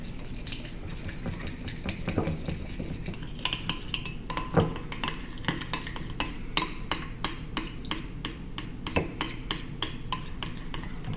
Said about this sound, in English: Go ahead and mix this batter up